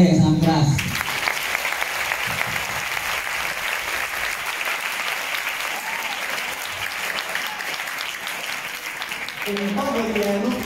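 An audience at an Islamic study gathering at an Indonesian boarding school gives loud, sustained applause, a dense wash of clapping that swells after a brief moment of speech and runs on until speech returns at the end.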